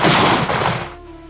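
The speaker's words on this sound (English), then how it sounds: "Shots rang through the sky." Gunshots in a fairy tale narration about wild geese in the reeds, a loud close burst of bangs fading into a ringing decay.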